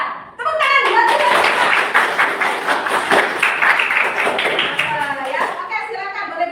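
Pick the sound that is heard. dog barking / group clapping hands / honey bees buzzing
group clapping hands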